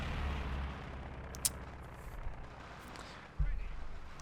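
Strafing support gunfire in the video game Company of Heroes 2 lands as a few sharp cracks and thuds over low rumbling battle noise, with a louder burst near the end; no voices.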